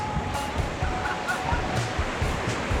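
Waves wash in rhythmically on a beach in Japan, a steady broadband surf rush with repeated swells breaking nearby, fairly loud and constant.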